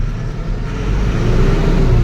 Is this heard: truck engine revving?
yes